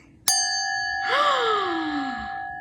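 A single clear glass is struck, ringing out in a bright sustained tone, then a second chime swells with a wavering, gliding pitch that slowly fades.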